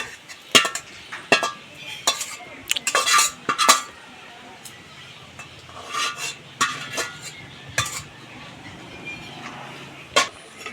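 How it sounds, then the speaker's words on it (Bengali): A utensil stirs lentil dal with fried egg in a pot, giving irregular metallic clinks and scrapes against the pot in short bursts separated by quiet gaps, close and clear with no speech. "ডিম দিয়ে একটু ভালো করে নেড়ে চেড়ে দিচ্ছি।"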